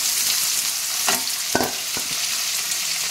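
Dried red chillies fry in hot oil for upma, a loud continuous sizzle with a couple of brief stirring scrapes and no voices.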